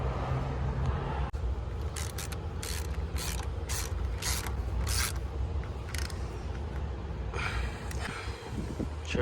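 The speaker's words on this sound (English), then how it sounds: "I believe this was a 13 mil right here to get this tightened back up." Ratchet wrench tightening a 13 mm bolt on the belt tensioner of a 1996 C4 Corvette, repeated quick clicking strokes in short bursts, close and moderately loud.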